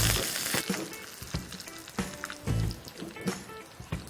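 Mustard seeds, hing and curry leaves sizzling in hot oil for a raw mango pickle tempering, a close crackling fry broken by sharp irregular pops and spatters.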